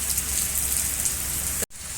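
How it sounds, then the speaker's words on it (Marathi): Steady rain falls in a village after raining on and off since the night before, making a continuous close hiss with one brief dropout near the end. "आमच्याकडे रात्रीपासून पाऊस सुरूच आहे असाच पाऊस येतोय जातोय येतोय जातोय"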